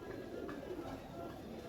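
A pigeon coos softly at close range, low murmuring calls against a quiet background, with no talk over them.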